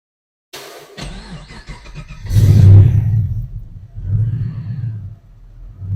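LS1 V8 swapped into a 1962 Chevy Nova cranks and fires up, followed by a loud throaty rev that swells and settles into a lumpy rumbling idle, heard close up indoors with no talk.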